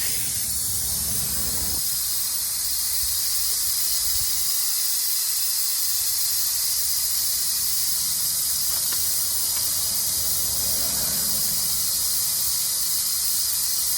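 Air hissing from the bleeder nipple of a Dodge Grand Caravan rear brake caliper, a continuous steady hiss that runs the whole time, fairly loud and close, with no talk.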